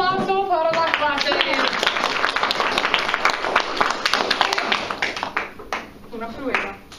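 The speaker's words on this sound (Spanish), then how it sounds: "Un aplauso para la clase." A classroom of students claps in a burst of lively applause that builds quickly and then fades into scattered claps, with a teacher's voice heard over it.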